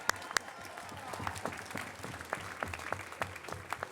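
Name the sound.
audience applause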